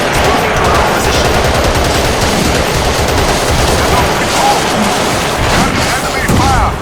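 Sustained, loud gunfire from the Battlefield 2: Modern Combat video game, with dense overlapping machine-gun bursts and shots forming a continuous barrage over the whole stretch.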